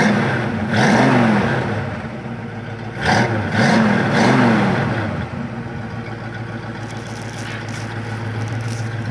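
A yellow 1965 Ford Mustang convertible engine is close by, revving in several throaty bursts that rise and fall over a steady rumbling idle, then settling back to idle.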